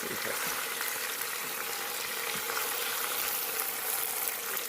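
Elk roast searing in a hot pot, a steady dense sizzle and crackle of frying meat holding evenly throughout, fairly faint and close.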